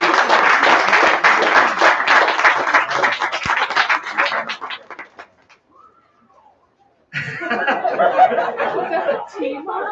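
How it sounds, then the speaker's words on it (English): A crowd at a senior career and technical education award ceremony applauds an award winner, loud sustained clapping mixed with voices that fades to near silence, then talk resumes. "it's kind of nice when you can hear the crowd inside"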